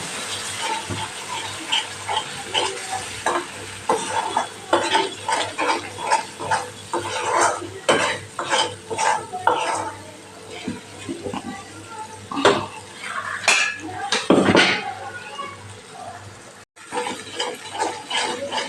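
Steady stirring and scraping of a spoon in a pan as masala is sautéed, with light sizzling and frequent clinks of metal, close up and continuous, no voices.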